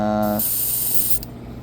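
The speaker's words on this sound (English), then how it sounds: "we're just gonna spray it on the top here" A loud aerosol spray hisses continuously up close, painting the top of a fishing crankbait lure, with a brief rattle at the start and the hiss easing slightly toward the end.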